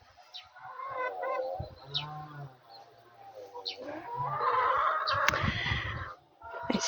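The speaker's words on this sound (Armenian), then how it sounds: "Մեր հավերն են։" Backyard chickens cluck close by in a garden plot, giving a series of short, irregular calls and squawks that build into a busier burst of clucking.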